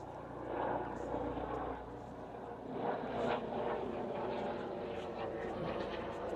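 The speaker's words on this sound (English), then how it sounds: "Yet again a helicopter flying about." A helicopter flies about over a house construction site, a faint, distant rotor drone that swells and fades slightly over several seconds amid quiet outdoor background noise.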